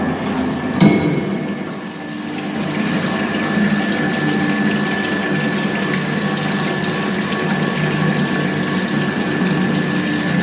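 Water from a venturi meter test rig pours steadily into a measuring tank, with a continuous rushing roar and a mechanical pump hum underneath, loud and unbroken after a brief knock at the start.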